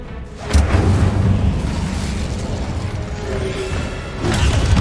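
A fire spell cast during combat in the video game Hogwarts Legacy, a loud sustained whooshing roar with booming low rumble that swells at the start and again near the end, with no talk over it.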